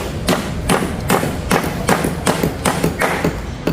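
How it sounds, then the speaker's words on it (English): Fabric being nailed to a wall during a party setup: a steady series of sharp hammer thumps at an even rhythm, close and fairly loud, with no voices. "I wonder if they nail it to the wall."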